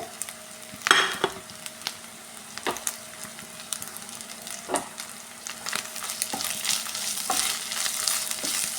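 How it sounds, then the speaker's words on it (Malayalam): Garlic and green chillies sizzle steadily in a pan, with a few sharp scraping knocks from stirring scattered over the frying hiss, close and fairly loud. "അടുത്തതായിട്ട് നമ്മൾ വെള്ളുള്ളി പച്ചമുളക് ഇട്ട് കൊടുത്ത് നന്നായി ഇളക്കി കൊടുക്കുക"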